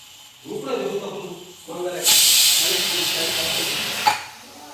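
A pressure cooker whistle vents steam while rice cooks, one loud hissing release lasting about two seconds that follows a voice talking.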